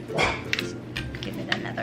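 A few short dog barks and yips at a moderate distance, coming in quick bursts.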